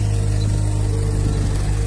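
Garbage truck engine running on a quiet Dubai street during a morning waste collection, a steady low idling rumble that holds loud and close for the whole stretch.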